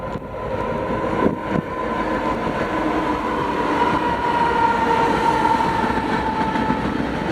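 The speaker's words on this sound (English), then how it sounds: "The first train we would see is the ZDVLB with UP8887 leading." Union Pacific freight train with UP8887 leading rolls past at very close range, a loud steady roar of wheels and cars with rail clatter holding for the whole stretch, no voices.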